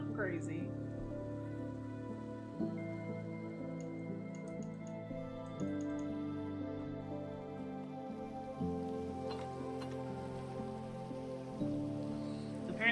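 Rain falls in the video game Minecraft: a soft, continuous patter of drops beneath sustained background music tones, with a few faint ticks and no pause throughout.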